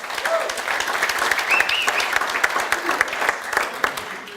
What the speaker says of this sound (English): let's give these guys a round of applause for joining us